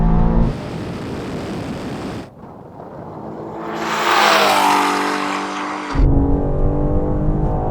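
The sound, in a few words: Bugatti Chiron Super Sport accelerating in drag race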